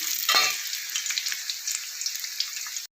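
Onions sautéing in hot oil for a country-chicken masala gravy, a close, steady crackling sizzle with a brief louder burst of stirring near the start, no voices.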